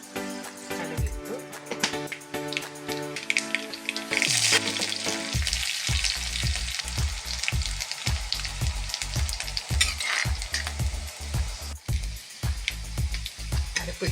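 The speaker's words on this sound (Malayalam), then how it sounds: "1 സ്പൂൺ എണ്ണ ഒഴിച്ച് കടുകിട്ടു." Mustard seeds hit a spoonful of hot oil and splutter for thamarakka thoran, with dense rapid popping and crackling that builds and stays loud and close.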